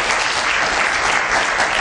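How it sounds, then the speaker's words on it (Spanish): A strong, dense round of applause from a crowd. The clapping is loud and continuous, an unbroken roar of hands from start to finish. "Vamos a darle un fuerte aplauso,"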